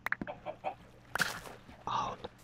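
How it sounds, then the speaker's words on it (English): Minecraft chickens cluck in short, close bursts, several separate clucks spread across the moment with quiet gaps between them. "Oh, look at all those chickens."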